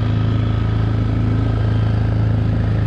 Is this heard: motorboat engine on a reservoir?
yes